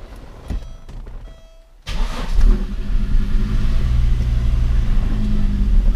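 Audi 5000 CS Quattro engine cranks briefly, catches and starts, then settles into a loud steady run with some revving, close by with no talk.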